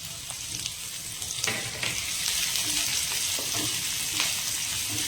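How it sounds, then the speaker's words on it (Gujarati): Chilli and green onion whites sizzle hard in a hot pan over a full gas flame for chilli paneer, a steady loud crackling hiss with bursts of spatter and stirring throughout. "તો હવે તેમાં આપણે ચીલી ઉમેરી દઈશું, લીલી ડુંગળીનું વ્હાઈટ પાર્ટ."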